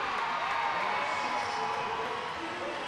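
Crowd cheering at a roller derby game, the 2015 MRDA Championships St Louis Gatekeepers versus YMRD, a steady roar of voices with speech mixed in.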